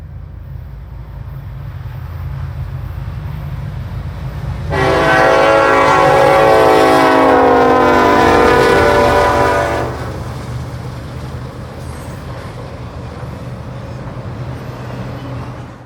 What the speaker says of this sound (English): 211 heads west, providing a very unusual sight: a long hood forward consist leading one of the highest priority intermodal trains